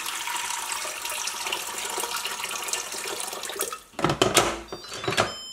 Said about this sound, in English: Just adding water up to the number one line, which should be about four cups.